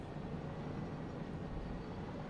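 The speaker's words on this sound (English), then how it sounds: "Oh, that's a train." A train passes in the Satisfactory video game, a low continuous rumble with a steady rolling drone, moderately loud and alone without talk.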